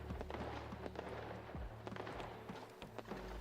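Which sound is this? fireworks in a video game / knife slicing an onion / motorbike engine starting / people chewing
fireworks in a video game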